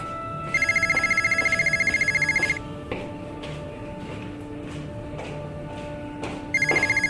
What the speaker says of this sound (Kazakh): Ас бөлмеден хабарласқан дыбыстарды естіп, мен дым түсінбей қалдым.